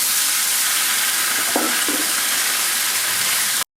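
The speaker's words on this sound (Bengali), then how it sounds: "সব মাছগুলো এভাবে লাল করে ভেজে নিচ্ছি" Steady loud sizzling of bele fish frying in hot oil, a dense continuous crackle with no talking.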